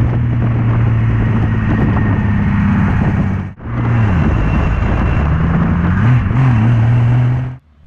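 A Bolwell MK VII sports car drives by close and loud with a steady engine drone, cut by a brief drop near the middle, then pitch sweeps as it changes speed before fading out; no speech.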